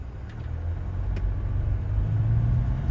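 A Mercedes Vito 447 van on a test drive: a steady low engine and road rumble heard from inside the cabin, with a constant drone and no speech.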